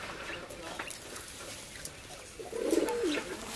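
Caged quail feeding give a faint background of soft pecking and rustle, then one short, warbling call near the end, fairly close but quiet.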